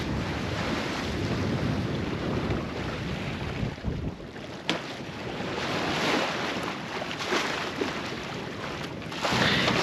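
Wind rushes and waves wash continuously around a sailboat at sea in a breeze of about eight to nine knots, a dense broadband roar with buffeting gusts and a brief lull midway, with no talking.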